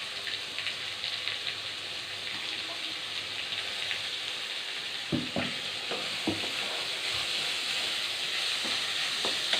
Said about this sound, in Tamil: ஆனியன் போட்டுக்கலாம். நல்லா வதங்கணும்.